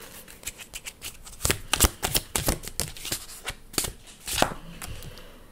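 Message cards being shuffled for a card reading, a quick run of crisp riffling taps building into denser flutters, close and fairly quiet with no talk.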